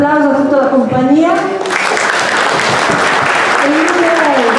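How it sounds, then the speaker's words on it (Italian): Audience applause fills a theatre after a Christmas play, a dense, loud, steady wash of clapping that swells in partway through, with a voice speaking over the start and again near the end. "Un applauso a tutta la compagnia."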